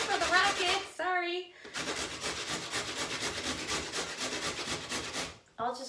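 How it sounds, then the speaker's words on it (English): Carrot being grated on the small side of a box grater, a steady run of rapid rasping strokes in the middle with brief bursts of talk at the start and end. "on the small side of my grater, I'm just gonna grate some of that right into it"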